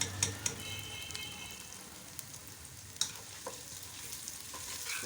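Grated ginger and garlic sautéing in a pan for aloo baingan sabzi, a soft continuous sizzle with occasional sharp pops and clinks, faint and without talk.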